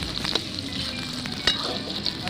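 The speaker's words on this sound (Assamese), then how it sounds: "পিঁয়াজখিনি অলপ ৰঙাকৈ ভাজি ল'ম এতিয়া" Onions sizzle and fry in a pan at an outdoor family picnic, cooked down for a local chicken curry; a steady close hiss with a few sharp spatters and stirring clinks, no talk.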